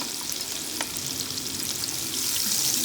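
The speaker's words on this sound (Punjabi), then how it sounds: "ਇਸ ਦੇ ਵਿੱਚ ਆਪਾਂ ਪਿਆਜ਼ ਪਾਵਾਂਗੇ ਪਿਆਜ਼ਾਂ ਨੂੰ ਆਪਾਂ ਭੁੰਨਣਾ ਹੈਗਾ" Onions fry in mustard oil with a dense, even sizzle and a soft stirring scrape, close and steady, growing slightly louder near the end, with no voices.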